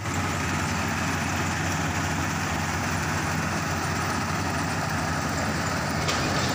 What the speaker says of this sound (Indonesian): Kalau kita lihat ini mesin kombi jalan lancar ya